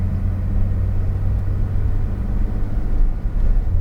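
A Porsche engine drones with a deep, steady rumble as the car powers down a race track straight, loud and close, with the road noise holding constant over a few seconds.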